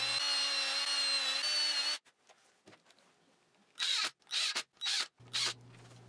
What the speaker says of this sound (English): I put in some reinforcement screws to give it a bit more strength